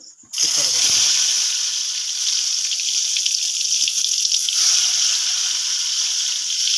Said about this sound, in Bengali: এবার এগুলোকে গরম তেলের মধ্যে ভেজে নেব।